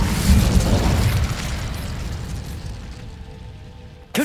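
The Incendio fire spell is cast in Hogwarts Legacy on PS5. A loud, roaring burst of flame erupts at once, then rumbles and slowly fades over about four seconds.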